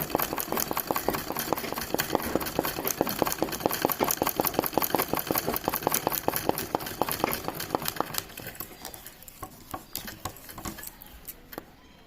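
A home sewing machine stitches a running stitch for machine embroidery, filling a flower design; a rapid, steady mechanical rattle of needle strokes runs loud for about eight seconds, then stops, leaving quieter room noise.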